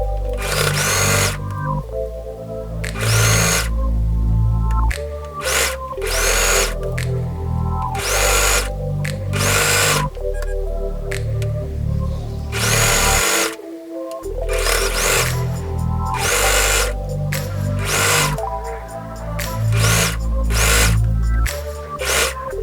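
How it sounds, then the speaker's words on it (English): A sewing machine runs in bursts while stitching around a folded T-shirt hem, its motor buzzing steadily through long stretches, cutting out briefly and restarting, close and loud with no talking. "I'm going to stitch all the way around the hem to finish my t-shirt."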